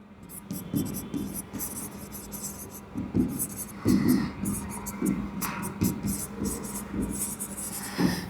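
A pen writing on paper, close and steady, with continuous scratchy strokes and short pauses between words, plus a soft voice in the background.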